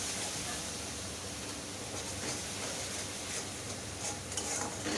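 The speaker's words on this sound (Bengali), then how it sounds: "সব কটা উপকরণ দিয়ে একটু ভালো করে কষাতে হবে।" Potato, pointed gourd and soya chunk curry spiced with Kashmiri chili powder sautéing in a pan, a steady dense sizzle and hiss throughout, close and even, with no talking.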